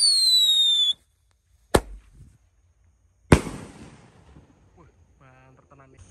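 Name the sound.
Mortar Sweet firework mortar exploding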